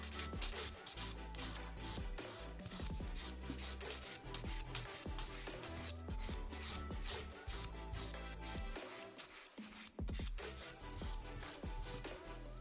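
A file rasps steadily back and forth over an acrylic nail, bevelling it down toward the tip, with quick rhythmic scratchy strokes, very faint and close.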